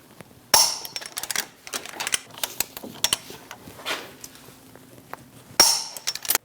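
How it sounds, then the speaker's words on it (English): Torque wrench tightening brake caliper bracket bolts on a 2001-2006 Chevrolet Silverado 2500 HD, with two sharp metallic clicks at the start and end and scattered light tool clinks and taps between, close and quiet. "Torque the caliper bracket bolts to 220 foot-pounds."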